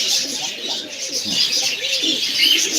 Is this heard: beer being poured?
no